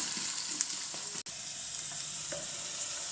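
Onions fry in a pan for veg biryani, a steady close sizzle with faint stirring scrapes and one brief dropout, with no talking.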